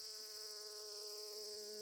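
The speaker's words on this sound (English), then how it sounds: "fuzzy bees, who were rolling their round bodies in pollen, then buzzing off to share it with another bloom" Fuzzy bees buzz among tall grass and thin-stemmed wildflowers along a path, a faint, steady insect drone with no talking.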